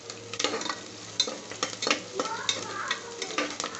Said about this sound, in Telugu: ఇవి ఆనియన్స్ బాగా వేగని ఎలా కొద్దిగా బ్రౌన్ కలర్ వచ్చేంత వరకు